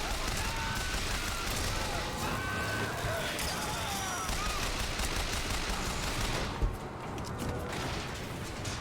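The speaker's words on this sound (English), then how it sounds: "Who's shooting the rockets?" Explosive rocket fire and blasts erupt in rapid, overlapping bursts during a Bioshock Infinite finale battle, loud and dense throughout with a brief sharp crack near the end.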